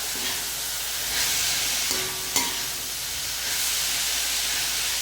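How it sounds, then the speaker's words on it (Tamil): Tomatoes dropped onto well-fried onions for a tomato chutney give off a steady, close, moderately loud sizzle and hiss, with a brief clatter partway through and no voices. "இப்போ தக்காளி போட்டலாம்"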